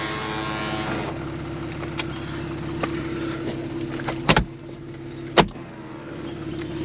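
The electric convertible hood motor on a Porsche Boxster S 987.2 runs as the roof raises, a steady whirring hum with a few sharp clunks and latch knocks toward the end.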